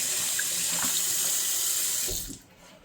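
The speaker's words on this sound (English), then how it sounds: "we're going to rinse and squeeze out our sponge, get as much soap out as we can" A kitchen tap runs loudly and steadily as a soapy sponge is rinsed and squeezed beneath it, the rushing water cutting off near the end.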